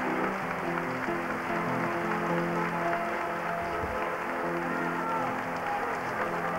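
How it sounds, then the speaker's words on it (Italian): An audience applauding a performer after a song on a Tuscan television variety show, a steady wash of clapping under a presenter's voice speaking over it. "Prenditi questi applausi più che meritati."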